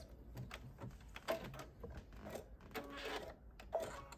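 Sewing machine stitching over two overlapped pieces of elastic, running back and forth in several short, quiet bursts of rapid clatter separated by small pauses.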